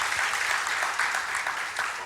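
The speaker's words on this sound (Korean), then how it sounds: "우리 수고하신 전 교회 성도들과 사역자들에게 큰 박수 한번 부탁드리겠습니다" A church congregation applauds steadily throughout, a dense patter of many hands clapping at once.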